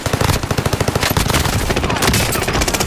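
Rapid automatic gunfire from a gun in a shooter video game, loud close bursts of fast repeating shots running nearly continuously, with a brief pause partway through.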